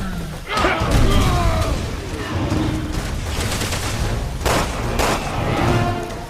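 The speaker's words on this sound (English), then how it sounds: "the minigun has to be the best way to damage him" Minigun firing in Resident Evil 6, a dense continuous rattle of rapid gunfire with heavy booming impacts throughout, loud and close.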